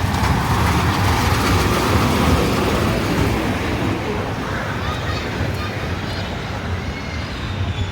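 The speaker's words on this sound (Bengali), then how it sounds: "চলেছে ট্রেন চলেছে ট্রেনের বাড়ি কই এই সেই ট্রেন" A park ride train at Mohera Zamindar Bari in Bangladesh rolls along nearby, producing a loud, steady broadband rumble and rattle that lasts throughout with no pauses.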